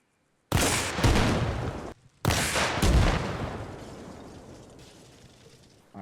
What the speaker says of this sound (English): high explosive anti-tank round with 105 millimeter primary warhead for the RPG-7